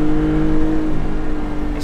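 A Maserati MC20 Cielo supercar with the roof open drives past a wall, its engine giving a loud, close, sustained droning note that holds steady and then eases slightly.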